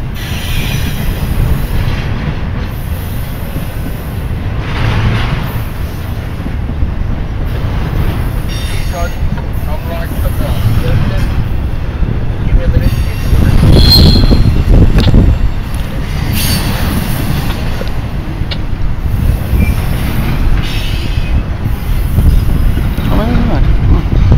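A train rolls past on the tracks at the Belen rail yard, a loud continuous rumble with rhythmic wheel clatter and occasional high squeals, growing heavier midway through.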